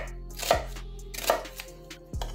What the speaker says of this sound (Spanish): Así que venga, le hacemos unos cortes